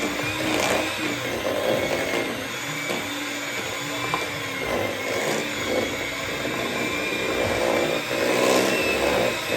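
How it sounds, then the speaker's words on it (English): An electric mixer whirs continuously, blending Thanksgiving side dish ingredients in a bowl with a loud, steady motor drone and faint rattling of the beaters, and no talking. "going to use the mixer and we're going to mix this all up."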